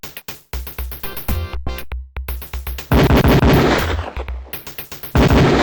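Beretta pistol fired at a police shooting range in Police Quest, a rapid run of sharp, loud shots in close succession, pausing briefly before further bursts.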